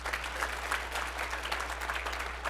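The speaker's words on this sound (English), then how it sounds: "You wanna clap for that one?" Audience applause at a teen symposium, a steady, moderately loud patter of many hands clapping together throughout, with a low hum underneath and no voices.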